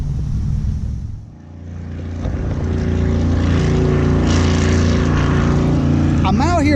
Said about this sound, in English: Apparently this is like speedboat capital of the world because the speedboats have been absolutely ridiculous.